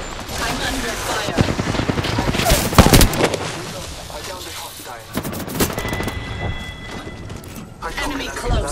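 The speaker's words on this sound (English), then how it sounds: "I'm under fire" Bursts of rapid gunfire crack through a first-person shooter video game battle, loud and close, with dense automatic volleys and single shots overlapping under game effects.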